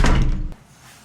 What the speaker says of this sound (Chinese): 我把门给关一下